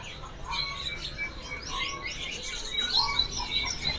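Prinia songbirds for sale at an Indonesian bird market chirp in quick, bright bursts, several birds overlapping close by, with no talk.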